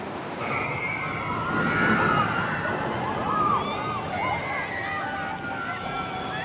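Rushing, sloshing water from a rapids ride at Parc Astérix theme park, with a steady roar of splashing and distant crowd noise running throughout.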